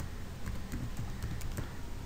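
Keys tapped on a computer keyboard while typing an email subject, a quick uneven run of soft clicks over a constant background hiss.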